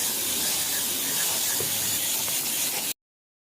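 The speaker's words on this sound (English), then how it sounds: "once you rinse them coils off" Water spray rinsing air conditioner condenser coils, a steady close hiss lasting about three seconds, then stopping abruptly.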